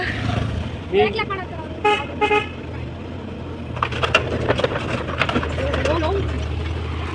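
A road vehicle pulls up with several short horn toots in clusters, its engine murmuring underneath while voices chatter nearby.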